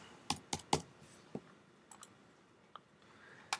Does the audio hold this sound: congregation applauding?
no